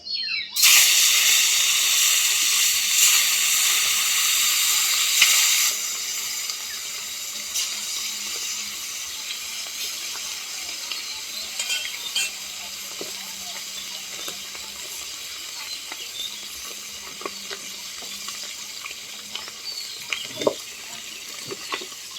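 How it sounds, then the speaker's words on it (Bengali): Fish pieces drop into hot oil in a pan with a sudden loud hiss, settling into a steady crackling sizzle with occasional light clinks. "তেলটা তেতে গেছে, মাছগুলো দিয়ে দেবো"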